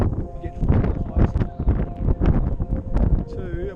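Strong gusting wind at a cliff edge in the Blue Mountains, buffeting the microphone in heavy low rumbles under a person's speech.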